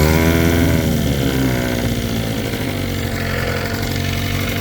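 A 1971 Johnson 6hp short-shaft two-stroke outboard engine runs steadily after a carb tune. It gives a loud, close, buzzing drone that eases slightly as it goes on, with no talking.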